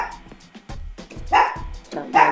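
A pet dog barks indoors in a home during a morning stretching session, giving a quick series of sharp close barks and yips, louder toward the end, with no talking over it.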